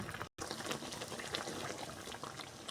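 Eggplant boils in a pot of water with a soft, steady bubbling churn, close and quiet, broken once by a brief cut to silence near the start.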